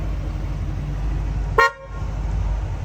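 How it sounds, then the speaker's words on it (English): A car horn gives a single short, loud honk during a vehicle lights-and-horn check, standing out against a steady low engine idle. "Horn works."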